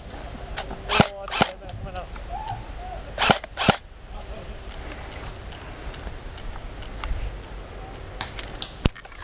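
Airsoft pistol shots during an outdoor skirmish game, a few sharp snapping cracks in pairs and singles, close and loud, with other faint pops and voices around.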